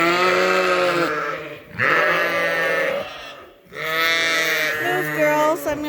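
Sheep and young lambs bleat on a farm, a series of loud, close, wavering cries that overlap and follow one another with short pauses between calls.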